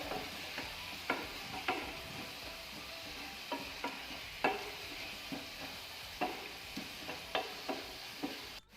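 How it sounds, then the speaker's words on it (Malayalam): Onions and sliced green chillies stirred in a pan for chilli chicken gravy, a spatula scraping in a steady series of distinct clicks and scrapes over a soft, continuous sizzle, close and clear with no talking. "ഇത് നന്നായിട്ടൊന്നും കൂടി മിക്സാക്കി എടുക്കാം"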